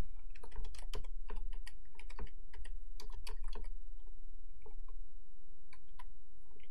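Rapid, irregular keystrokes on a computer keyboard while Java code is being written, close and clear with short pauses between bursts of clicks.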